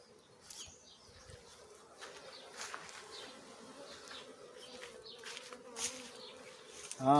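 A low, steady buzz of many bees hums throughout at moderate distance, with occasional brief higher chirps and clicks over it.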